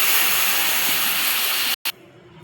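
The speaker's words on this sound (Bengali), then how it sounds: "এরপর এখানে মশলাটা ঢেলে দিচ্ছি।" Spice paste hits hot oil tempered with bay leaf, dried red chilli and cinnamon for a sabzi dal, giving a loud, steady, close hissing sizzle that cuts off abruptly near the end.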